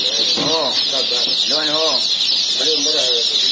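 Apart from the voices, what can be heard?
chicks chirping at a chick market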